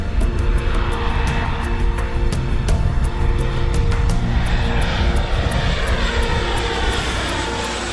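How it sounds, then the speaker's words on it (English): A propeller airplane lands on a tidal beach runway, its engine droning loudly and steadily with a rhythmic pulsing throughout, close by and with no voices. "Very smooth landing on the beach."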